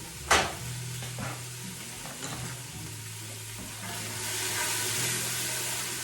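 Mirepoix vegetables fry in olive oil in a pan, a continuous close sizzle with sharp clatters from stirring at the start, and the hiss grows louder toward the end.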